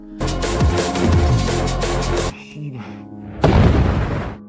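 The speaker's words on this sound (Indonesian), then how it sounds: "langsung melemparkan granat ke arah Kuma" Grenade explosion in an action film, a loud heavy boom with a rumbling tail, followed by a brief quieter lull and a second loud burst of blast noise.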